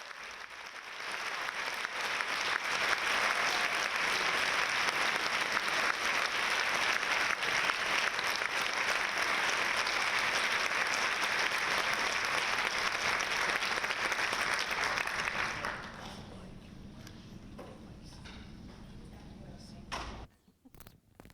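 Audience applause welcoming author Anna Quindlen at a Peters Township library event, steady and dense for about fifteen seconds before fading out, with a few scattered claps and faint voices afterward.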